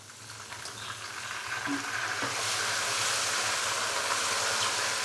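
Loud hissing sizzle of a hot pan of ginger-garlic paste swells as water is poured in, becoming a steady, broad roar of bubbling frying with no talking.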